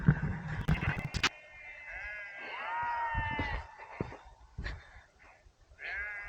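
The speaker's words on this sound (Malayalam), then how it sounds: "നമ്മുടെ ആടുകള്" Sheep bleat on a rain-soaked mountain trail on the Friendship Peak trek near Solang Valley, Manali, with several wavering calls overlapping through the clip, fairly close and clear, along with some rustling and thumping.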